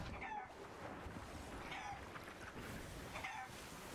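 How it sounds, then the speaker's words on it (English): A chicken aboard a pirate ship in the video game Sea of Thieves clucks three times at steady intervals, faint and somewhat distant over a soft wash of ambient sea noise. "they've got a chicken on their boat. I can hear it."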